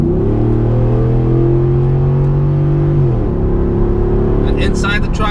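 A Ford F150 pickup fitted with a Borla ATAK exhaust accelerates hard, its loud steady engine drone rising in pitch, briefly dipping at a gear shift, then climbing again, with faint wind noise near the end.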